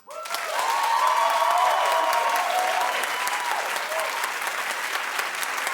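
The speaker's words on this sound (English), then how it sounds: "Clap if you want Sam to win." A television talk show studio audience bursts into sustained applause after a brief onset, loud dense clapping with a few whoops that holds steady for several seconds.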